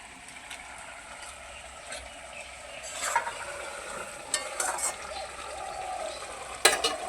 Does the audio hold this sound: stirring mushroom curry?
yes